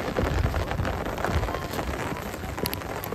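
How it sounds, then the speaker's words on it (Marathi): Heavy rain pours steadily over rice paddies being transplanted, a dense, close, continuous hiss and patter with no pauses. "पाऊस पडतोय खूप."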